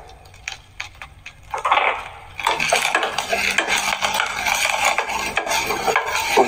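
Cooking spoon scrapes and clinks against a metal pot as turmeric powder is stirred into an agathi leaf sothi, with a few sharp taps early on followed by continuous close rasping stirring.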